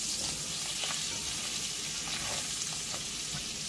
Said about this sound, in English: And so we're just going to start chopping it up. Make sure it's cooked all the way through.